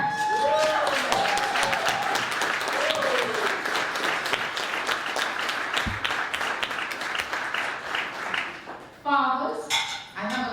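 An audience at a debutante ball in the Bahamas applauds loudly and steadily, with dense clapping that fills the room for about nine seconds before fading. A voice speaks near the end.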